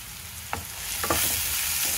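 Ginger garlic paste hits hot oil in a pan and sizzles loudly up close, with a few quick scrapes of a spoon stirring it through the short burst.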